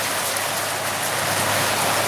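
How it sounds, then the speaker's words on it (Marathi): Rain falls steadily at an open-air chili market in Amthana, a dense, even hiss of drops pattering on surfaces with no break and no talk. "पाऊस सुरू झालेला आहे पाऊस सुरू झाला"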